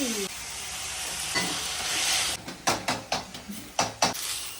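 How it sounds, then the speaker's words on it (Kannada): Cashews and onion fry in a hot pan with a steady sizzle, broken in the second half by a run of sharp, rhythmic scrapes and clinks of a utensil stirring against the pan. "ನೀರುಳ್ಳಿ ಹಾಕಿ ಕ್ಯಾಶ್ಯೂ ಫ್ರೈ ಮಾಡ್ತಾ ಇದ್ದಾಳೆ ನೋಡಿ"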